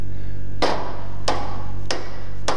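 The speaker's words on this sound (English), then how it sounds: "just tap it with a dead blow hammer, and you can see how easy I can punch that over" A dead blow hammer taps a roller shaft while fitting a turf striper to a John Deere 54-inch 7 Iron mower, four sharp, evenly spaced knocks over a steady low engine-like hum.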